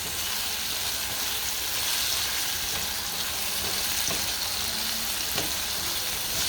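Menudo sizzles steadily in a pot as garlic powder and pepper are stirred in, a continuous dense frying hiss with occasional faint scraping and clinks of the spoon against the pot.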